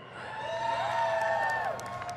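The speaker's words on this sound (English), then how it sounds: "cheer if you want Refreshing Jolt to go in" A large BlizzCon convention crowd cheers and whoops for a Hearthstone card choice, a dense roar of many voices swelling and holding for a couple of seconds before easing off.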